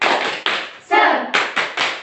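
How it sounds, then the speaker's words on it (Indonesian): Children in a classroom doing a rhythmic patterned clap, crisp groups of hand claps broken by a brief shouted chant in the middle, close and loud. "kita tepuk semangat terlebih dahulu ya anak-anak"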